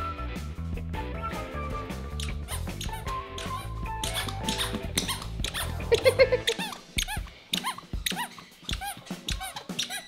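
Rapid high-pitched squeaks from little shoes, squeaking with each step, heard over music that drops out midway, leaving uneven squeaky footsteps.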